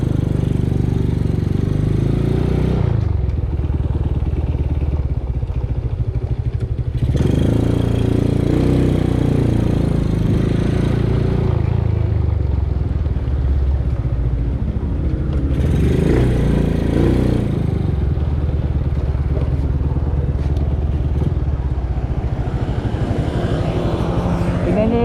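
A Suzuki Smash 115 motorcycle fitted with a copy two-pot Brembo brake caliper is ridden outdoors, its small engine alternately idling and revving up in several loud, drawn-out surges over the span.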